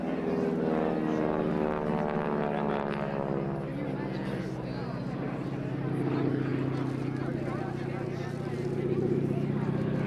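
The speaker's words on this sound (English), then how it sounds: "that was James flying the Hurricane at the back of the formation" Hawker Hurricane propeller fighter flying over a harbour at an airshow, a steady droning engine note that swells and fades as it passes, heard from the ground with a person talking over it.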